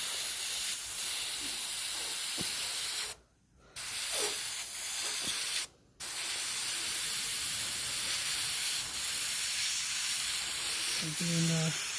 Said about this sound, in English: Spray against your stencil,